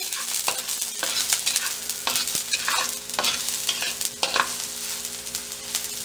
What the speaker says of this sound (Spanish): lo vamos a dejar que se fría sin que se queme vamos a mover a que se fría nuestra cebollita